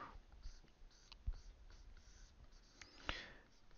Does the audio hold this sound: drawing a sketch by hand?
yes